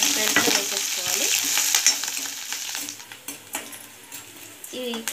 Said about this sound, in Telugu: ఇప్పుడు ఒక pan లో ఆయిల్ వేసుకొని నేను పప్పు ఆవాలు వేసుకోవాలి।